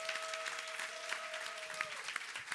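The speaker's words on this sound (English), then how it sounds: "Can we get a big round of applause for our fantastic panelists?" A conference audience claps for a music-and-blockchain panel, giving steady, moderately loud applause from many hands, with a sustained whistle in the first part.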